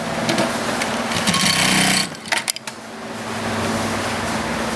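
An AtlasUSA AT93 automatic single-needle heavy-material sewing machine runs loudly with a steady mechanical whir, stopping abruptly about halfway, followed by a few short clicks and then a quieter motor hum.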